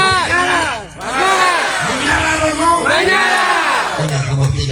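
A campaign rally crowd in Ramuk roars, cheers and yells in swelling, overlapping waves, loud and close, with voices shouting over the din.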